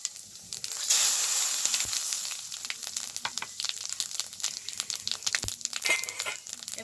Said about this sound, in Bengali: এবার এই তেলের ওপরে ফোড়ন দেব। ফোড়নে দেব গোটা জিরে আর শুকনো লঙ্কা।